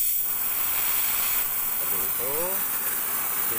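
A gas-tank cutting torch roars with a steady, loud hiss of flame against metal, continuous throughout with brief faint tonal squeals partway.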